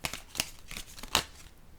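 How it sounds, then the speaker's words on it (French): A tarot-style card is laid down onto a table during a reading, with a few short crisp papery slaps and rustles close by, no voices. "Je vais déposer une carte sur le clown maintenant."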